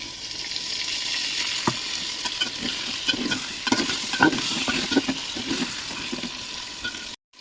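Jackfruit being stir-fried with ground spice paste in a pan, a steady close sizzle with scraping stirs running throughout, then cutting off abruptly near the end.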